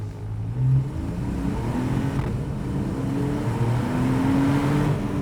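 A Porsche 911 997.2 Carrera 4S engine revs up in Sport mode and pulls away from a junction, its tone rising steadily through the gears, loud and close.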